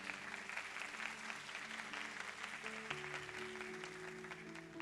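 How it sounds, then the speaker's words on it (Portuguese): A congregation at a youth church service claps steadily, sustained applause with sustained organ or keyboard chords underneath, moderately distant. "Vamos aplaudir ao Senhor por isso"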